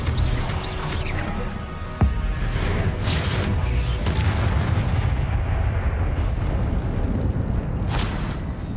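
Confringo blasting-spell explosions in Hogwarts Legacy: a continuous loud rumble of booming blasts with a sharp crack near two seconds and bright bursts around three and eight seconds.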